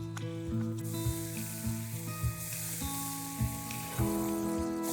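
Chopped onion sizzles in butter and oil in a pan, a steady close hiss under a rhythmic mechanical clicking and humming, with no talk.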